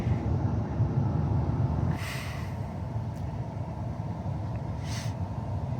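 A passing train on Brisbane's Sunshine Coast Line makes a steady low rumble in the background, heavy at first and then easing slightly, with faint clicks on top.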